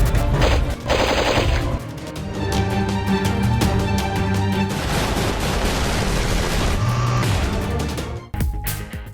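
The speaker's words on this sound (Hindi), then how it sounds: "LOC पर भारतीय फौज की बिला इश्तियाल फायरिंग।" Military gunfire across the Line of Control border between India and Pakistan in news footage; loud, dense bursts of rapid automatic fire and reports continuing for about eight seconds before cutting off abruptly.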